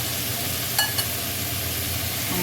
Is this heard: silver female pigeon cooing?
no